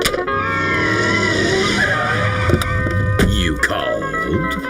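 A cartoon car from Courage the Cowardly Dog skids to a stop, its tires squealing under a rising and falling engine whine, set against background music with brief screech bursts near the end.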